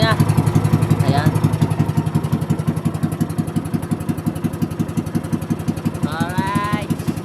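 A motorcycle engine runs close by with a steady, rapid, thumping pulse. It stays loud throughout, and a voice speaks briefly at the start and again near the end.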